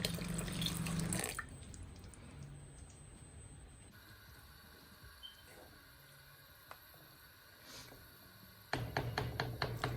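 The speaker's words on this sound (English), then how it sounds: "rinse that through with some water and then pour that in as well" Water trickling and dripping while a blender is rinsed out and poured into a stew for Ghanaian jollof rice, fairly quiet with a louder splashing burst at the start and end.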